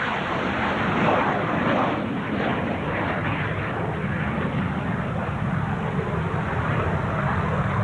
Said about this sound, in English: on the takeoff roll, the F-86 Silverjet